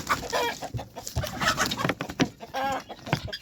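Chickens cluck and squawk in an agitated flurry among guinea fowl in a farm pen, close by, with overlapping calls and scratchy bird noise throughout.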